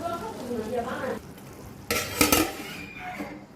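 A cooking pot nears the boil, with a low bubbling, frying-like hiss followed by a short burst of clattering from a utensil or lid against the pot, then quieter simmering.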